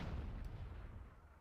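A grenade explodes in a video game battle near a cannon, heard as a faint, low rumbling boom that lingers for the whole moment with no sharp crack.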